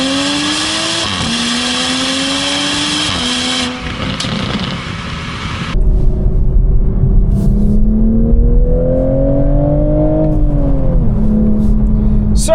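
A Toyota Supra 3.0 GT4 with a 3-liter turbocharged inline-6 revs and shifts through gears, rising and falling as it accelerates away, loud and close throughout.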